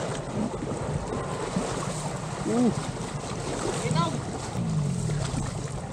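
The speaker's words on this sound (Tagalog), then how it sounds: "sakay na kami ng bangka" Boat ride across water in a small boat, with steady wind and water rush, engine rumble underneath, and occasional voices in the background.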